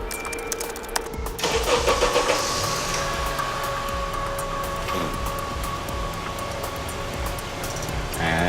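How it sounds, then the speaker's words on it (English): A car engine starting up after a short whirring crank, then settling into a steady mid-pitched idle, heard nearby in a parking lot during a remote-start hack in the game Watch Dogs. "You could start and stop the engine from the other side of the parking lot."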